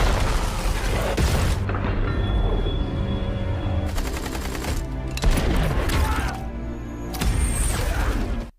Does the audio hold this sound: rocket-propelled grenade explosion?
yes